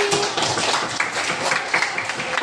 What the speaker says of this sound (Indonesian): tepuk tangan buat Kui